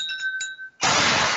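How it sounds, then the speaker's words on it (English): Glass clinking sound effect as ice cubes knock in a glass: a few faint ringing tones at first, then a sudden loud bright crash-like burst that fills the second half, with no voices. "I never understood the ice cubes in the glass."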